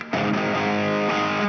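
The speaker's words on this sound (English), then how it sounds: "Turn on the distortion first." Electric guitar chord played through the distortion side of a Chase Bliss Brothers AM pedal, a single loud sustained crunchy strum ringing out close and alone.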